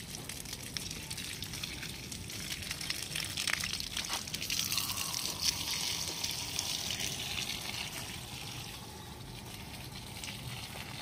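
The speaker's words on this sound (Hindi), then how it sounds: "सबसे पहले मैं यहाँ पर थोड़ा सा पानी डाल देती हूँ" A steady wash of running water, a hose spraying and splashing onto dry, neglected plants and soil, continuous and fairly close without any talking.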